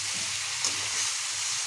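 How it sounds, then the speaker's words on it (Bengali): Murrel fish curry cooking in a pan after spice water is added, a soft steady sizzle and bubble running throughout with faint stirring scrapes, close and moderately quiet, no talking. "তো পরে আমি মশলার জলটা দিয়ে দিচ্ছি। ভালো করে কিছুক্ষণ নাড়াচাড়া করবো,"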